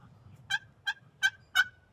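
A wild turkey gobbles in four sharp, rattling bursts spaced about a third of a second apart, clear and fairly close against a quiet low background.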